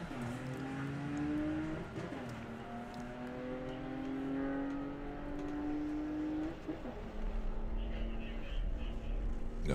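Drag racing car at Bug Jam revving hard in rising, repeated sweeps as the throttle is feathered down the strip, heard from a distance with a commentator talking over it.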